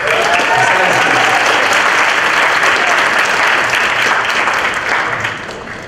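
Loud, sustained audience applause at a conference grand final session on emerging and middle powers, steady crowd clapping throughout before tapering slightly at the end.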